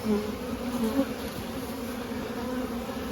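Honeybees buzz around a hive entrance in spring, a steady low drone of many insects, close and moderately quiet, with no voices.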